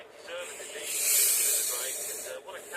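A freshly opened Dr Pepper soda fizzes with a steady, close hiss that swells to a peak and then eases off, carbonation crackling throughout.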